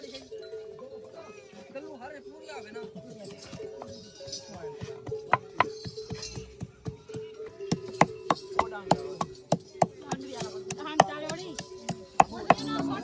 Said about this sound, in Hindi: ये है जी अदरक लहसुन जो कि अभी हम कूट लेते हैं अच्छे से